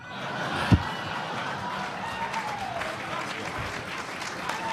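A luncheon audience at the National Press Club applauds the speakers, a dense sustained wash of clapping filling the room, with a sharp knock near the start and a few voices murmuring underneath.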